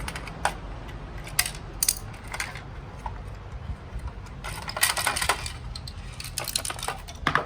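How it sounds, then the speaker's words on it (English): Small metal screws drop and rattle inside a bubble machine's case, making scattered sharp clicks and tinkling bounces that come in irregular clusters, close by, with light handling noise between them. "these screws are falling everywhere inside this case"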